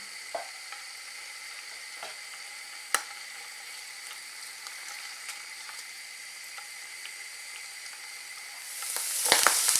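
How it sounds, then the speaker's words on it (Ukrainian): Steady soft sizzling of mushrooms frying in oil in a pan over medium heat, with occasional light clicks and a louder scraping stir near the end. "На розігріту пательню з олією викладаємо наші гриби. Обсмажуємо їх на середньому вогні"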